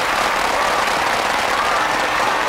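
Dense, steady applause from an audience at a live band session, loud and continuous throughout with no pauses and no voices on top.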